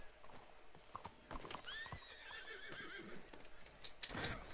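A horse in the video game Red Dead gives a loud whinny over quick hoof clip-clops and scuffling, close up, with faint background noise.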